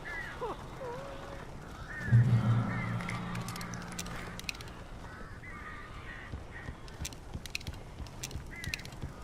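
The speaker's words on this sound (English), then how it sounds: "These birds are weird." Weird birds in the Alan Wake video game, crow-like caws and harsh squawks scattered through the scene with a sudden low swell near the start and sharp flutters later, under faint background sound.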